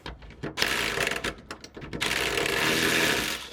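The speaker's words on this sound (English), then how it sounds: "now it's time to bolt the mounts back in the car and then bolt it back in" Ratchet wrench bolting rear suspension mounts with new bushings onto a MK1 Golf: bursts of quick clicking and metallic clanks, then a steadier run of ratcheting, close up with no talking.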